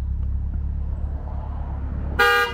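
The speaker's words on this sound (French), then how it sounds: "Voulez-vous que j'active les signaux sonores de votre voiture?" A Tesla's car horn, set off remotely through a voice-assistant shortcut, gives one loud, clear honk near the end, after a couple of seconds of low rumbling background.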